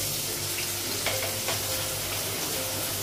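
Ginger paste fries in oil with salt, cumin and turmeric, giving off a steady close sizzle. A couple of soft stirring scrapes sound partway through.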